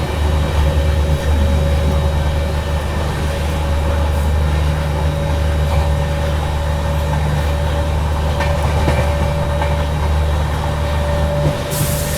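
Steady loud rumble of the Kanpur Shatabdi Express running at speed parallel to a tanker freight train, a continuous low drone and faint rattling without pause; no voices.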